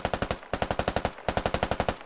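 Automatic gunfire in the military shooter game Squad: three rapid bursts of evenly spaced shots, each burst a handful of rounds, sharp and fairly close with no talk over them.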